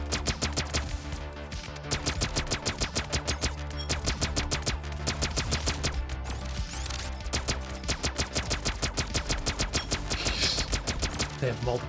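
Rapid-fire bursts from a purple shooter weapon in the video game Core Devourer, a dense, rhythmic stream of sharp gunshots repeating almost continuously for the full stretch, loud and close.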